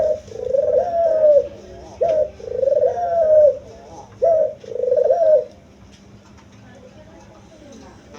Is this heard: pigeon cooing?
yes